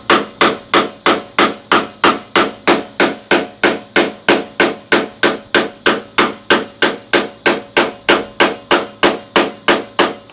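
Steady, evenly spaced hammer blows drive a spacer into a power steering pump housing during a rebuild, about three sharp metallic strikes per second, loud and close with no talking.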